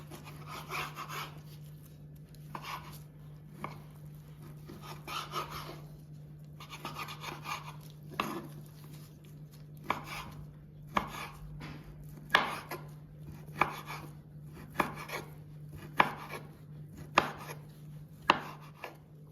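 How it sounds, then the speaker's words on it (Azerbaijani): Meat finely chopped with a knife on a board for fisincan plov: sharp, close knocks in an irregular, quickening rhythm, growing louder and more regular toward the end, with no talk. "İndi isə əti xırda-xırda doğrayıram."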